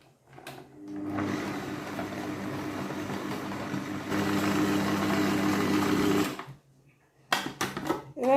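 A food processor motor whirs steadily for about five seconds, growing louder midway as it blends banana and potatoes into a foutou substitute, then cuts off, followed by a few short clattering bumps.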